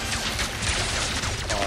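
Rapid gunfire rattles at a dropship in the Ratchet & Clank game, a dense continuous burst of shots and impacts under loud layered game sound.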